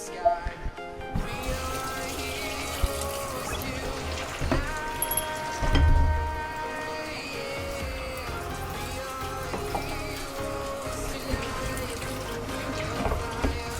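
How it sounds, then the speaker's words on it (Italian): Boiled potatoes are drained in a kitchen sink: a steady splash of water pouring and running down the drain for several seconds, with a brief louder gush partway through. "Spegniamo e le andiamo a scolare."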